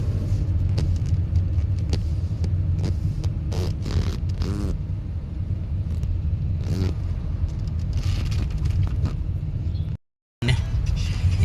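A car drives through the parking area of Indira Gandhi International Airport Terminal 3, giving a steady, loud engine and road rumble with light scrapes. The sound cuts out briefly near the end.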